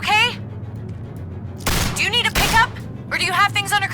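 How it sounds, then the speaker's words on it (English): Gunfire erupts in two loud, dense bursts amid the tense action of The Walking Dead: A New Frontier video game, with character voices talking before and after the shots. "I hear gunfire"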